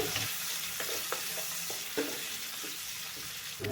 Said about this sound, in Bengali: এবার ওই তেলে কেটে রাখা পেঁয়াজ কুচি দিয়ে দিচ্ছি